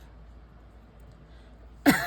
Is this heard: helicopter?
no